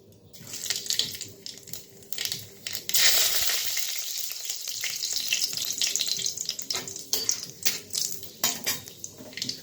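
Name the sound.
black cumin seeds sizzling in hot mustard oil in a wok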